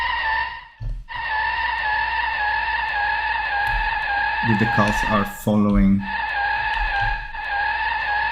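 A car's tires skid in an Unreal Engine 5 Chaos Vehicles simulation, a loud, sustained high-pitched squeal that wavers and briefly breaks off, while someone talks over part of it.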